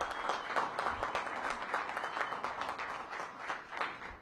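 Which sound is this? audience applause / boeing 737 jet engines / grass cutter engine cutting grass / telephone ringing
audience applause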